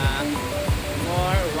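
A waterfall near Ubud, Bali, roars with a steady, full wash of falling water that fills the whole clip, while a voice talks over it.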